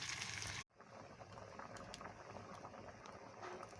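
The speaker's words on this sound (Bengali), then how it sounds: "তরকারিটা এখন খুব সুন্দরভাবে ফুটছে" Mutton and papaya curry simmering in a pot, a soft continuous bubbling after a brief break at the start, quiet and close with no talking.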